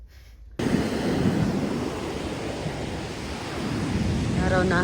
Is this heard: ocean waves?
yes